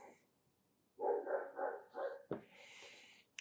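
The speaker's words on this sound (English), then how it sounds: "I think I'm going to hear those bad doggies" Dogs barking indoors during a home sewing session, a quick burst of several close barks followed by a higher yelp, after a quiet start.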